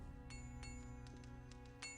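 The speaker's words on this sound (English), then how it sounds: "I hear clinking to my left." Faint metallic clinks of a blacksmith at work in Archolos, several light ringing strikes at an uneven pace over a steady low ambient hum, with no talk.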